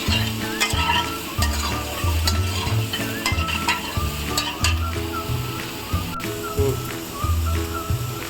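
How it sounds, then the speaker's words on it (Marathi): Loud, steady sizzling of chickpeas and soybeans frying in oil, with repeated scraping and stirring strokes in a rough rhythm throughout. "पाणी सुटेपर्यंत आपण भाजून घेऊया याच्यामध्ये तेलामध्ये."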